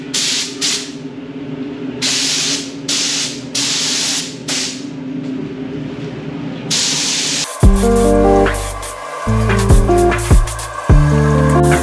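Spray paint going onto a primed Fiat bumper in a series of short, sharp hissing bursts with brief pauses between them, close by, followed by a stretch of louder tonal, music-like sound.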